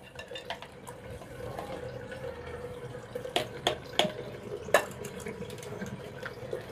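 Water mixed with soapnut is poured and splashed over a dog during a bath, giving soft trickles and sharp splashes at close range against a low background hum.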